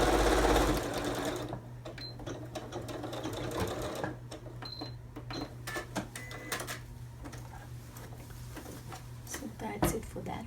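Sewing machine running a steady, rapid mechanical whir and needle rattle while stitching the seam of an envelope-back cushion cover, with a person speaking over it.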